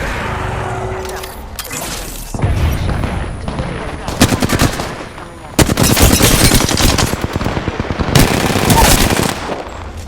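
Loud bursts of automatic gunfire from Apex Legends come in several rapid volleys separated by short gaps, with game voice lines and effects mixed in.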